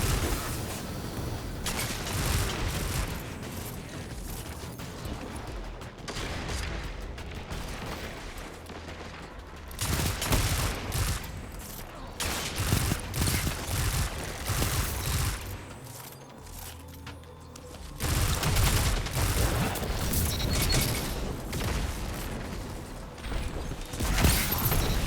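Shotgun blasts and other weapon fire crack repeatedly through a Destiny 2 firefight, irregular bursts of loud shots amid mechanical clanks and game effects, with no talking.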